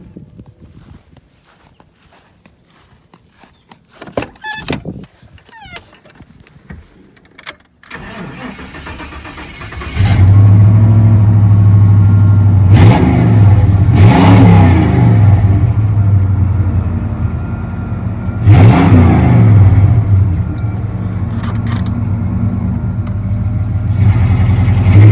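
A Chevrolet Z71 truck engine with a newly replaced MAP sensor cranks and catches after some clicks and rustling, then idles loud and close, swelling in two revs before settling back to a steady rumble.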